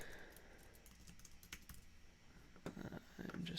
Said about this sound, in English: I'm just making sure I'm typing this in correctly.